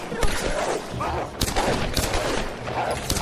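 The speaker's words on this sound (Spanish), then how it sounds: "disparos" Gunfire in the Tomb Raider video game comes as rapid, loud bursts of shots in several volleys, with a voice faintly underneath.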